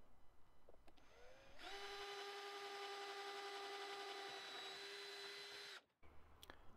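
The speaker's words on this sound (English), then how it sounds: "So I just get the appropriate drill and drill a hole." A small power drill bores a 2.5mm hole for a piano wire axle, its motor spinning up to a steady high whine that holds for about four seconds before cutting off abruptly, with faint handling sounds around it.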